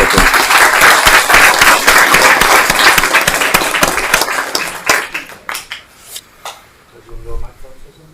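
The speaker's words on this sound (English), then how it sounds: "But one more round of applause for our 12 of you guys" Audience at a parish council meeting applauds an All-Stars team, dense sustained clapping from many hands that thins out into scattered claps, with voices talking as it dies down.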